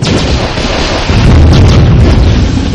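A laser satellite strike in the strategy game Warzone 2100 lands as a loud, sustained explosive roar, a dense broadband rumble that swells around the midpoint and stays heavy throughout.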